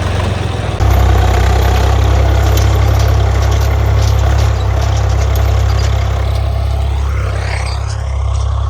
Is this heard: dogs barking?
no